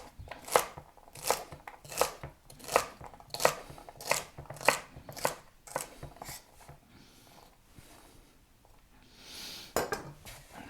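A knife chops vegetables for mirepoix on a cutting board, about a dozen crisp, evenly paced thuds up close. A pause follows, then a softer scrape and a couple more knocks, with no talking.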